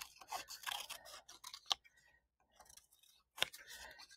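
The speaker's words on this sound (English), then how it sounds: "I'm going to cut kind of circle" Scissors snip a paper circle for a Matisse-style collage, several soft close cuts in an uneven rhythm with two sharper snips standing out, alone and quiet.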